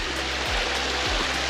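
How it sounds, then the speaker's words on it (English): A creek on a hike to Lower Stevens Lake in Idaho, flowing in a steady, close rush of broadband water noise, with a few low thumps around it. "Got to the creek again"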